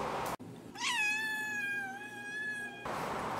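A cat lets out one long, loud meow that rises and then holds steady in a clear drawn-out whine, set between short stretches of noisy background.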